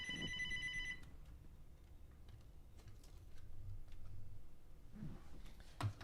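A phone rings during a live online movie-news show, a bright electronic ringtone bursting loudly at the very start and cutting off after about a second, followed by a quiet room with faint clicks and low hum.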